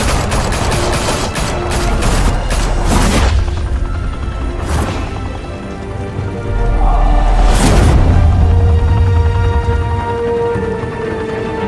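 Gunfire in the Batman Telltale video game, bursts of rapid shots and heavy booms with rumbling low end, loud and close, trailing into sustained explosive noise.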